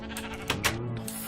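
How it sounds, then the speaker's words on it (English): A sheep bleats a couple of times up close on a wool farm in a space-themed video game, a short wavering cry over a steady background drone. "We got a bunch of sheep in there now"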